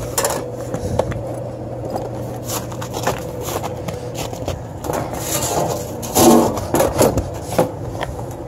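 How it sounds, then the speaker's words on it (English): A Proto socket set is handled, sockets rattling and rubbing with light metallic clinks, scrapes and taps scattered throughout at close range, busiest in a short cluster near the end. "let me grab my sockets so I can loosen these right here."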